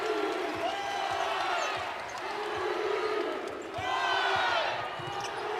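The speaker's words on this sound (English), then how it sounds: "Crowd coming alive here at Humphrey Coliseum." A basketball arena crowd at Humphrey Coliseum swells in waves of cheering during a Mississippi State versus Georgia game, with sneaker squeaks and a ball bouncing steadily under a commentator's voice.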